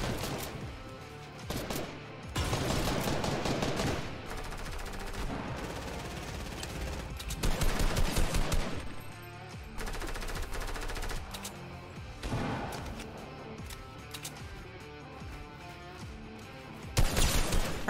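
Fortnite battle gunfire in bursts: rapid automatic volleys and single shots come in dense clusters separated by brief lulls, loud and sharp throughout, with no voices.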